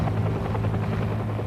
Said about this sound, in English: the stricken Huey managed to struggle back to base